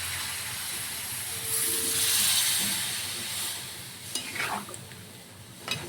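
Water poured into a pan of frying taro root curry sets off a steady sizzle and hiss that swells and fades, with a few stirring scrapes of a spoon near the end.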